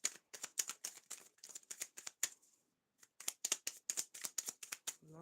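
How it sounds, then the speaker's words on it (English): Tarot cards shuffled in quick riffling bursts, two runs of crisp rapid flicks separated by a brief pause, close and clear with no talk. "Last shuffle."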